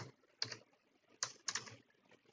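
Typing on a computer keyboard: a handful of crisp, close key clicks in uneven bursts, quiet overall with short pauses between strokes.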